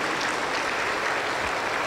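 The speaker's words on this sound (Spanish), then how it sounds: "Aplauso para el Señor Jesús." A church congregation at a Wednesday service in Junín, Peru, claps together in a dense, continuous wash of applause that fills the room, with no speech over it.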